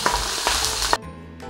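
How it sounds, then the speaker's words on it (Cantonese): Chicken fat sizzles steadily in a wok over low heat for about a second, then the sizzle drops away to a faint quiet hiss. "細火將啱啱扯出嚟嗰塊雞肥膏煎出油"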